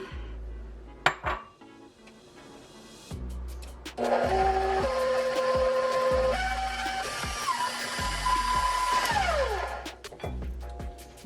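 An electric mixer creams butter with brown sugar in a bowl for a rum cake cheesecake, a steady whirring drone with shifting pitch. Clinks and knocks against the bowl come before and through it, close and moderately loud.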